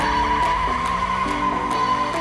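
A Ford Mustang RTR drifting at a drift school produces a sustained loud tire squeal with a steady engine tone, shifting pitch a few times as the car slides.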